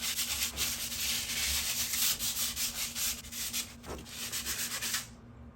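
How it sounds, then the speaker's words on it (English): Steady rubbing of sandpaper on a broken garage door part, a continuous scratchy stroke pattern close up that runs for about five seconds before stopping abruptly. "you can't really add on the new parts unless you sand it down."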